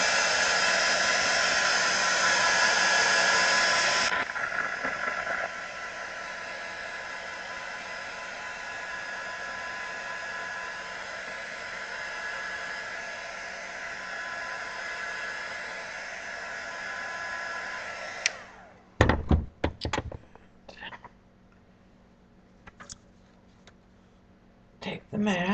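A hair dryer blows steadily on a watercolor painting of a tree frog for about eighteen seconds, louder at first and then a little quieter, before switching off; scattered handling clicks and a few words follow.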